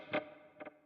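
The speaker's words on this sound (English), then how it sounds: "It is a dark delay." Dark delay effect on a Fractal FM3 guitar processor: a short bright burst followed by a pair of softer, darker repeats that fade away, quiet and with no playing or talk around them.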